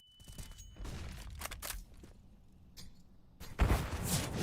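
A grenade bursts in Counter-Strike, a sudden loud broadband blast near the end following scattered sharp gunfire cracks, with the noise lingering after the hit.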